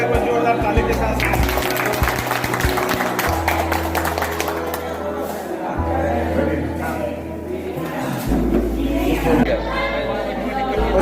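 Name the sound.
audience applauding Ankit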